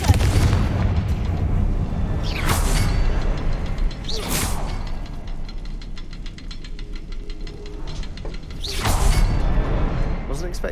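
Fire-blast spell explosions in the game Hogwarts Legacy: three heavy booming bursts with whooshing tails, spaced a few seconds apart over a constant rumbling background.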